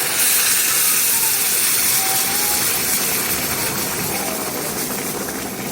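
A loud, sustained hiss and sizzle as warm water hits caramelized sugar in a pan. It is close and steady, easing slightly toward the end.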